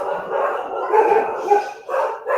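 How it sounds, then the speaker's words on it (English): Several dogs barking and yipping nearby in a home during a football discussion, loud, overlapping excited barks in bursts with no talk over them. "Sorry, my dogs."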